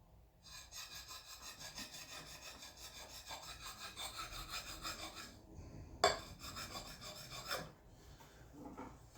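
A steel file rasps across the bevel of an axe head in steady back-and-forth strokes, close and continuous for most of the stretch, with a sharper scrape near the middle and a brief pause before the strokes resume.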